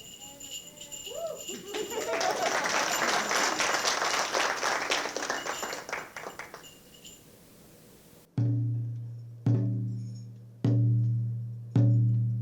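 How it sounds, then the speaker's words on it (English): An indoor audience at a science pitch competition finale claps steadily for several seconds, a dense wash of applause that swells and then fades out, followed by loud, evenly spaced drumbeats. "So feel free to clap, cheer, and be loud."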